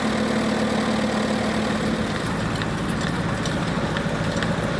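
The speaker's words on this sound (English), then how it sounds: "Driven there by a Case D, local Somerset tractor, totally unrestored, in its original working clothes" A totally unrestored Case D farm tractor in original working clothes, at a Somerset hay and harvest event, idles with a steady, dense, close engine rumble that runs throughout without a break.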